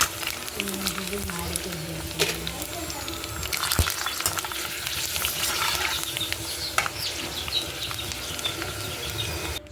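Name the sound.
pani puris deep frying in oil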